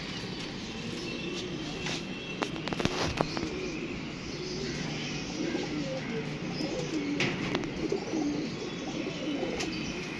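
Pigeons in a loft give soft cooing and chirping calls over a steady background hum, with a few sharper noises in the middle and no talking.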